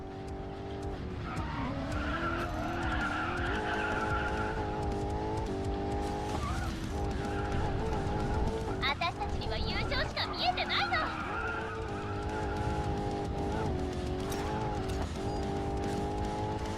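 A Corvette race car in the Racing Master video game drives with a steady engine drone and tire squeal through corners. Skids break through now and then, with a voice talking over it.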